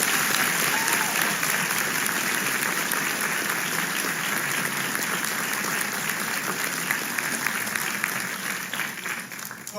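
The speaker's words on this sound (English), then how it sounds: "Can we get a round of applause?" A large audience at a resort ambassador ceremony applauds, dense sustained clapping with some crowd noise that holds steady and then begins to taper at the end.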